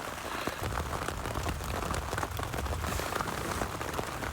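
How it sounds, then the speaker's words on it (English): Rain falling on a camping tarp during a solo overnight thunderstorm, a dense, steady patter of drops filling the space without a break. "I actually thought I made it out camping without getting into the rain."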